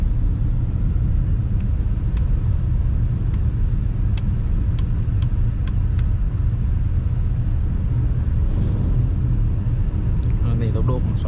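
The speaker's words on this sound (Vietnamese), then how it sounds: "Chúng ta vẫn thay cảm thấy cái tiếng rào rào thôi, nhưng mà tiếng rào rào đấy chúng ta thấy là nó đã được triệt tiêu đi rất là nhiều rồi." A Beijing X7 SUV drives on a rough road surface, giving a loud, constant low rumble of tire and road noise with faint ticks and clicks above it; no one speaks.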